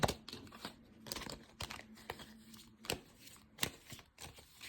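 Tarot cards are handled and shuffled up close, with a series of quick crisp riffling and slapping bursts and softer paper rustles between them, no voices.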